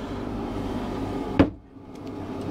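A hanging locker door on a Hallberg-Rassy 50 sailing yacht shuts with a single sharp close, heard alone against a quiet cabin hum.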